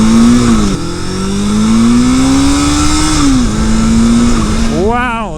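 A Yamaha XJ650 Turbo motorcycle roars close and loud as it pulls on turbo boost, its engine note climbing, dipping at a shift, then rising again, with a sharp rev surge at the end.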